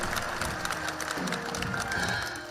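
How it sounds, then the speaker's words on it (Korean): Audience applause at a student gathering, a dense continuous patter of many hands clapping at steady loudness throughout, with no speech. "박수갈채를 보냈습니다."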